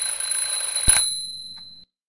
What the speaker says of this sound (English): I'm, just testing the smoke detector.